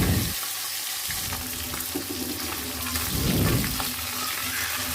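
Fish frying in a mix of mustard oil and soybean oil, a steady close sizzle and crackle running throughout with brief louder bubbling bursts.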